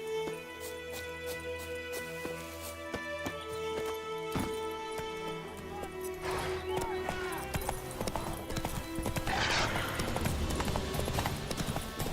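Hooves clip-clop in a steady galloping rhythm as a horse runs in the video game The Witcher 3, close and loud, with an occasional whinny and brief speech over the hoofbeats.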